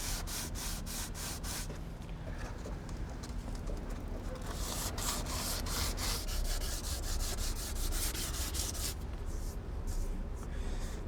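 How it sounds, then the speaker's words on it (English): Hand sanding of a gel coat repair area on a boat hull, a continuous rhythmic rubbing scrape with steady back-and-forth strokes, close and moderately loud, no talking. "we need to just carefully rub down these areas, and as you're rubbing it, you're keying the other area ready for gel coat"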